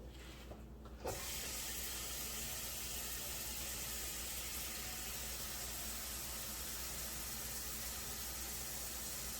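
Tap water gushes into a pot for Jamaican stewed beans, starting abruptly after a second and then running as a loud, steady broadband rush to the end.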